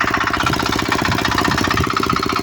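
A Zubr NT-105 walk-behind tractor runs in second gear at medium throttle, pulling a homemade rotary harrow. Its engine makes a loud, steady, rapid pulsing chug close by, with no voices.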